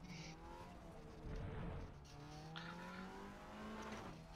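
Front-wheel-drive Audi TT race car in the RaceRoom video game, engine revving up and down through gear changes with a brief tire squeal, close and steady throughout with no voices.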